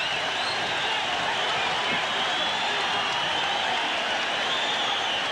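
Boxing crowd roaring wildly after a knockdown in a Jeff Fenech versus Carlos Zarate title fight, a dense, sustained wall of cheering and shouting that stays loud and steady throughout.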